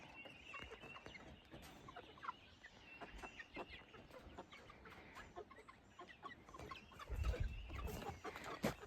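Young pullets cluck and chirp busily throughout on pine bedding and sand in a new chicken run, with rustling and a louder scuffling thump near the end.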